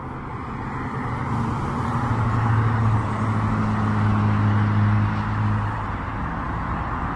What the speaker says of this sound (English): the residents are too fond of all the constant traffic noise